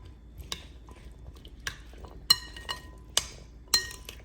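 A spoon mixing a chickpea salad in a bowl, producing sparse clinks and knocks against the dish with soft wet stirring in between, close and fairly quiet.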